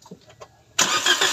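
A Toyota Vios with a 1NR engine makes a starter attempt after an overhaul: faint clicks and rattles, then a sudden loud burst of cranking engine noise through to the end.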